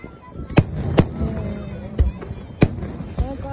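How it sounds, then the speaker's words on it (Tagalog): Fourth of July fireworks finale at California Great America, heard from the crowd as several sharp booming bursts spaced irregularly, with crackling and a faint background murmur between blasts. "Ito po yung fireworks ng Great America, California Great America."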